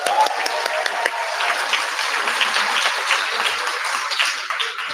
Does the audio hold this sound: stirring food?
no